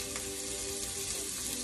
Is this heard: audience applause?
no